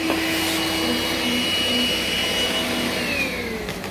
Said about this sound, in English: I've got all this sawdust here on the miter saw. So we're gonna sucking it right up.